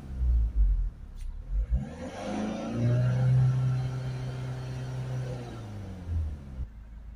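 A Ford Focus 1.6 diesel engine, with a restricted particulate filter, revs up from idle and holds a steady high drone before dropping back down, close and loud, with a few knocks and handling noises at the start.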